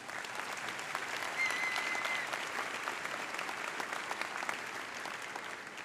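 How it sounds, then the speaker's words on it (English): Sustained applause from a large crowd at a high school graduation ceremony honouring faculty and staff, steady and even throughout, heard at a moderate distance with no voices over it. "A huge round of applause for them"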